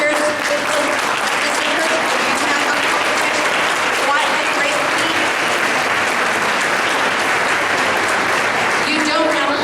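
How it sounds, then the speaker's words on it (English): Sustained applause fills a school literary anthology ceremony as parents and teachers clap together, dense and steady from start to finish with no break. "I want you to stand up and give yourself a round of applause."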